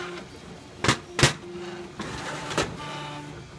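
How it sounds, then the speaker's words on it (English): A CTC 3D printer printing a camera mount, quiet motor whirring with a few sharp louder movement bursts, close and alone. "right now I'm actually printing, that's a camera mount"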